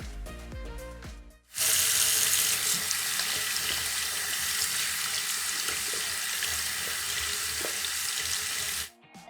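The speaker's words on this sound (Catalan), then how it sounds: "És una aixeta!" A tap runs steadily with a loud, even rush of water that lasts several seconds, then stops abruptly.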